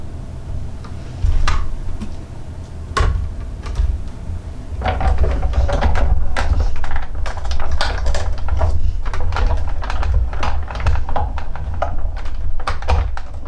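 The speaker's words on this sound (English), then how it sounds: "if you set your dies at an angle, it's easier to run them through the machine" A manual die cutting machine runs papercraft dies through its rollers, giving a steady run of clicking, ticking mechanical taps that grows busier and denser partway through, close and fairly loud.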